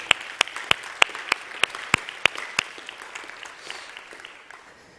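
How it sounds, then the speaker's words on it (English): A conference audience at NomadsBA gives a round of applause. Distinct, close, sharp claps ring out in a steady rhythm, then thin into a softer scatter of clapping that fades toward the end. "Let's give a round of applause for NomadsBA for bringing us together here today"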